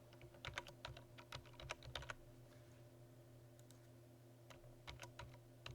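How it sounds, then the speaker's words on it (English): Computer keyboard typing, quick clusters of light clicking keystrokes in two short bursts separated by a pause, faint and close over a low steady hum, no one speaking. "So I'm going to type gender"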